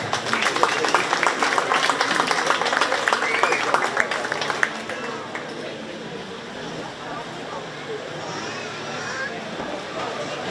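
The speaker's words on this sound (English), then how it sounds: "Let's give those kids a round of applause." A crowd in a fair show arena claps for kids after a 4-H sheep and goat show, a dense, steady patter that fades partway through into murmuring and background arena noise.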